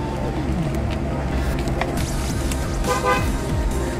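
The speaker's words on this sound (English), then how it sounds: "Maybe you're curious what the horn sounds like. I'm gonna honk it for you for just a moment." A Chrysler 300 SRT8's horn sounds in a steady, sustained honk, loud and close, lasting several seconds with a faint background hum.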